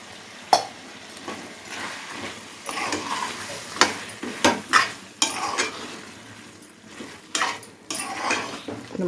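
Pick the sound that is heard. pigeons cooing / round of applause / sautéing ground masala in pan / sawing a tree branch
sautéing ground masala in pan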